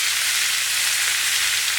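Chicken pieces frying in a crowded hot pan, a loud, steady sizzle that hisses without a break and without any talk.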